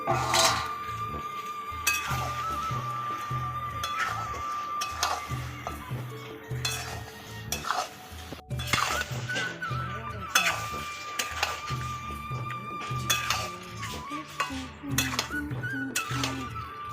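Fried potatoes being stirred into a village-style chicken curry in a pot, with repeated scraping and clinking of a metal spoon, a low sizzle underneath and occasional louder knocks against the pot rim.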